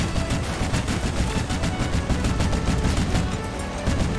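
Rapid gunfire and explosion bursts in the vehicle combat video game Crossout, dense repeated shots in a loud, continuous barrage.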